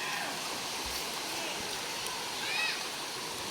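A waterfall at Gabur Gabur in the Sierra Madre, Cagayan Valley, rushes as a steady hiss of falling water from moderately close, with faint voices now and then.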